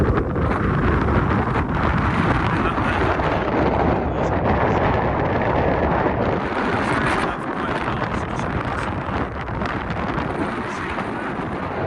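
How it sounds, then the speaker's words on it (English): Strong, gusting wind roars and buffets the microphone continuously on the mountain top of Ben Arthur, Scotland, a dense low rumble with no letup throughout. "It's hellish windy up here."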